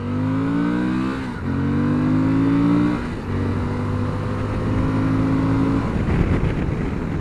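A 2021 Suzuki V-Strom 1050 XT motorcycle accelerates from first gear, its engine note climbing loudly and close up through a rev run, with a short shift break before climbing again.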